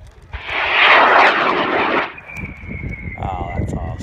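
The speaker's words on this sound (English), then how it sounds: "We're launching the Soleil in 5, 4, 3, 2, 1, ignition." A high-power model rocket motor ignites with a sudden loud roaring rush that lasts about two seconds, then drops away to a thin hiss as the rocket climbs, while people react in the background.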